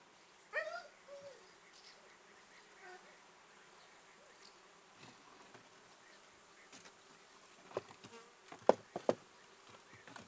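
Honeybees buzz faintly around a beehive frame filled with honey in a small, weak colony. Soft intermittent hum, with a few sharp handling knocks and clicks near the end.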